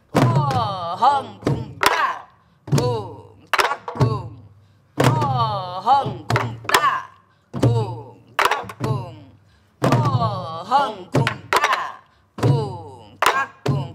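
A Korean sori-buk drum is struck in jangdan rhythm during a lesson, with crisp, close thunks interleaved with a man vocally imitating the drum strokes in a rhythmic chant.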